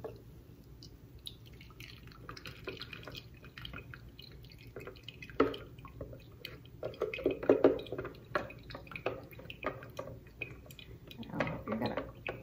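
Strained homemade garden hot sauce trickles and drips from a sieve into a jar, quiet uneven liquid splashes and drops with a few brief louder spills.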